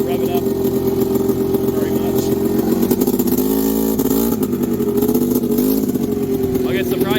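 A 1998 Scrambler 400 4x4 ATV engine runs steadily nearby, holding a throbbing idle with slight rises and dips in pitch, while someone talks over it throughout.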